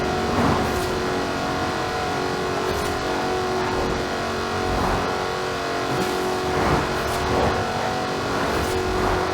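A Jaguar F-Type Project 7 in Forza Horizon 4 races along, its engine a loud, sustained snarl that rises and falls through repeated revs and gear changes, with occasional tire noise and no talk.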